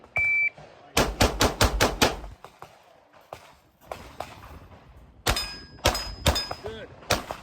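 Several sharp, loud reports from a Glock 19X pistol, a rapid string of about six close shots, then a pause and a few more shots, with faint outdoor background between them.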